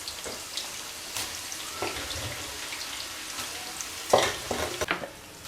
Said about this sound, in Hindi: घी गर्म हो गया। अब डाल देते हैं प्याज।